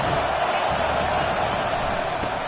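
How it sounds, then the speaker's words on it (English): Dense, steady stadium crowd roar from a college football video game, Georgia at Mississippi State, swelling on a third-and-long snap; a loud continuous wash with no clear breaks throughout. "Here comes the crowd trying to make it tough on third and long."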